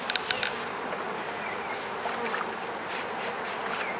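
Honeybees buzzing steadily during the hiving of a package of bees, a dense continuous drone of many insects close by, with a few brief sharper sounds early on.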